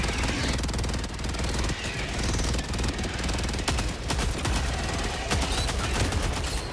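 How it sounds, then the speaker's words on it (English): Rapid mechanical drilling in the video game Helldivers 2, a dense, rattling jackhammer-like pounding that runs continuously and loudly, with sharp gunfire-like bursts breaking through. "Don't mind the drilling sound."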